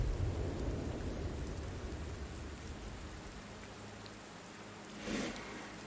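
Steady rain falls in the Redemption Reapers video game, a dense even hiss of drops with a low rumble like distant thunder early on, continuing alone without talk.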